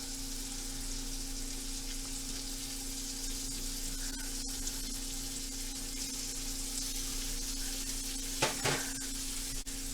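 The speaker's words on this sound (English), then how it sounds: "And at the same time I'll stir fry a little bit," Slices of country-style beef rib stir frying in a pan, a steady, fairly quiet sizzle that holds evenly throughout, with a couple of brief utensil clinks near the end and no voices.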